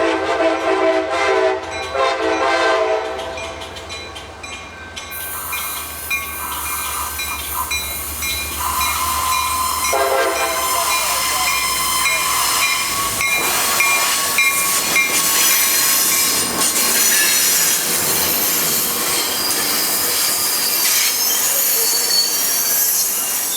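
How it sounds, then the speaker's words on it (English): A Trinity Railway Express (TRE) passenger train rolls through Fort Worth Central station with loud, sustained metallic wheel squeal, rising and shifting tones over steady rail rumble and hiss, with a brief horn-like tone early on; no voices. "This next TRE train is driven by my good friend Evan Comas"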